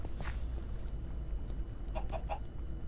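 Game chicken in a Lego video game clucks in a few short, close bursts over a steady low background hum, with no talk.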